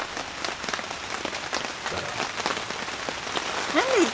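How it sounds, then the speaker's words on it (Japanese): Heavy rain pours outdoors, a dense, constant patter of drops striking surfaces at close range, with a brief faint voice-like sound near the end. "めっちゃ降ってるね。 ザーザーじゃん。"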